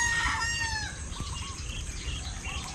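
Chickens over two kilos each, kept on a rice-farm homestead and fed corn, crow and cluck nearby. A rooster crows at the start, followed by scattered clucks over steady outdoor background noise.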